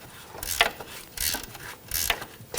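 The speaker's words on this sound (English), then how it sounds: "Switch to a ratchet wrench," A ratchet wrench loosens a nut on the rear forward control arm of a 2000-2006 BMW X5, giving close, crisp clicking bursts in four quick repeated strokes.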